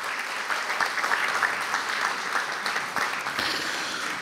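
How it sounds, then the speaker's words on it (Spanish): An audience at a book presentation in Miraflores applauds strongly, dense and sustained clapping filling the room throughout, with a few brief louder claps standing out. "para quienes pido un fuerte aplauso"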